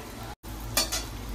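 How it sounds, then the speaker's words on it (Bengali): Luchi puffing in hot oil in a home kitchen, a soft, steady sizzle with a brief dropout and a couple of louder bubbling flares. "এখানে গরম গরম লুচি ভাজা হচ্ছে"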